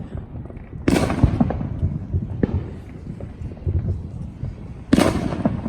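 Fourth of July fireworks going off at a house: three sharp, loud bangs spaced a couple of seconds apart, each with a crackling tail, over a rumbling, noisy background.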